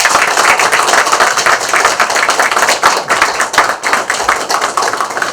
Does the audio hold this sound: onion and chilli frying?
no